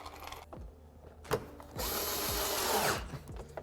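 A power drill drives a screw into a Corvette C7 composite undertray, giving a short whir and then a sustained, loud whine of over a second close by, with a few clicks and knocks around it.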